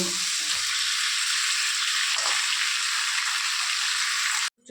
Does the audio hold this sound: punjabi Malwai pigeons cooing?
no